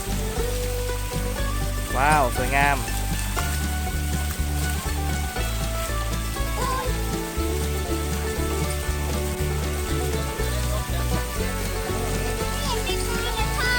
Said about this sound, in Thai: มีกังหันน้ำตกด้วยนะครับนี่